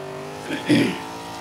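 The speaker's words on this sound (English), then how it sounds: "this GNX is just so powerful, so fast, so fun to drive" A Buick GNX driven in the racing game Forza Horizon 5 gives a steady, low engine drone that swells briefly near the middle, with a muffled voice rising over it.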